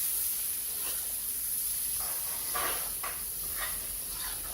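A steady hiss and sizzle from a hot pan as fried dried fish is stirred with taro stolons, with soft scraping stirs breaking through now and then; close and even, no talking.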